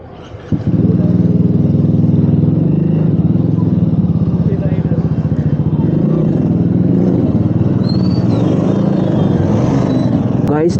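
Motorcycle ridden at night, its engine droning loud and close throughout with a steady hum and rattle, faint chirps near the end.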